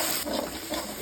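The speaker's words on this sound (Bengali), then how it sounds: "আদা রসুনটা ভালো করে কষে নেব।" Coarse ginger-garlic paste hisses and steams as it fries in oil for mutton curry. The sound is a brief, loud, close burst of sizzling with a slight scrape.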